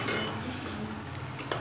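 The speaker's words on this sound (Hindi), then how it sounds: "अब हम इसमें ये पिसा हुआ मसाला ऐड करेंगे और इसे अच्छे तरीके से मिक्स करेंगे।" Ground masala being stirred into chicken korma in a pan, soft low scraping and a faint sizzle, quiet and steady with a brief clink near the end.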